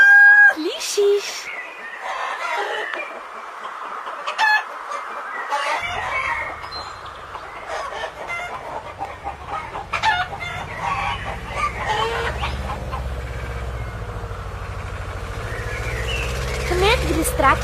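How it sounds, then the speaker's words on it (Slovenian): A farm rooster crows and clucks in loud, repeated bursts. A low, steady rumble comes in partway through and runs under the bird calls to the end. "Takole nas petelinček na kmetiji zbudi."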